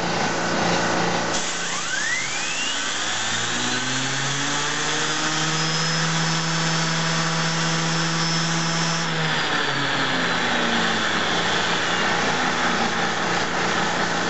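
A small turbine engine with a generator load spools up from idle to a high-pitched whine near 20,000 RPM, holding a steady loud scream for several seconds before winding back down, close and continuous with no talking.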